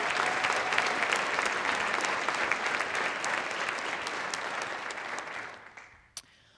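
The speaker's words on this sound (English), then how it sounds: "Let's give them a round of applause." Audience applause at a chamber of commerce annual meeting, a dense steady clapping that swells then fades out over several seconds, ending with a single sharp clap.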